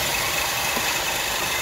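A car motor with a faulty, excessively leaning engine mount runs steadily with a loud, rough, unbroken engine noise close by, and no one speaks.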